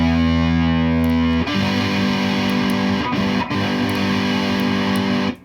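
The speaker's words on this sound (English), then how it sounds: "You can get some kind of overdrivey sounds with it too." Heavily distorted electric guitar chords through a Fuzz Face-style fuzz pedal prototype, ringing out buzzy and saturated, with a couple of chord changes, loud and close.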